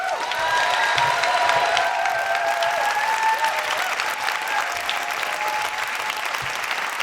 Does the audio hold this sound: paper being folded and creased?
no